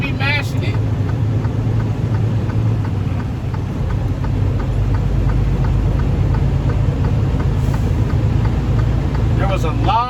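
A semi truck pulls uphill on a winter road, its engine holding a steady, loud, low drone with a faint regular ticking pulse throughout, and no shifting.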